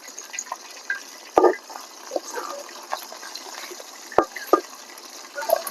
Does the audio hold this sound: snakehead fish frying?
yes